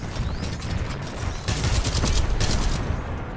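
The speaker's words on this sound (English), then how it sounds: "who's shooting me?" Rapid gunfire rattles in a video game as the player is hit, dense bursts of close shots with a louder volley in the middle, no talking.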